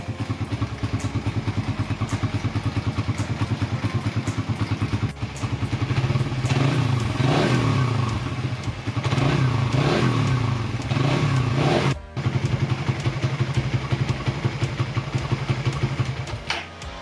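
A Suzuki Raider 150 Fi motorcycle engine idling up close, a loud rapid single-cylinder putter with a steady beat, rising briefly to a few revs and clattering midway, then settling back to idle with one short dropout.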